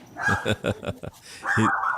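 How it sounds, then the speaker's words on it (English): A dog barks repeatedly at someone at the door, several loud close barks in quick succession followed by a longer whining yelp, heard over a conversation. "so we all now have a dog entering into the conversation"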